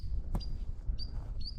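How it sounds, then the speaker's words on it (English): A bird gives a few thin, high chirps outdoors on a windy mountain trail, short calls spaced apart over a low rumble of wind. "Bird fighting the wind."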